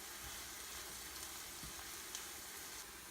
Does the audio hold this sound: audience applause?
no